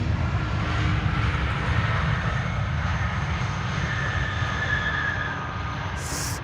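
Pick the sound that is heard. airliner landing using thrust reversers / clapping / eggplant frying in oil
airliner landing using thrust reversers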